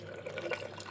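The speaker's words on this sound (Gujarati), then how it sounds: "હું થોડુંક ગરમ પાણી એડ કરું છું" Hot water poured into a pressure cooker of simmering guar (cluster bean) curry for Kathiawadi-style guar dhokli, a short soft gush of liquid with slight splashing, close and steady.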